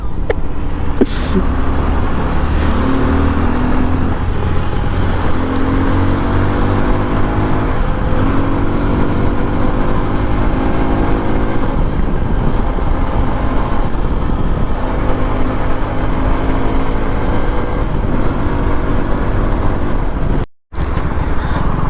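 A motorbike engine drones loudly on a highway near Anantapur at midnight, with continuous road and wind noise and gently shifting engine pitch, plus a brief dropout near the end.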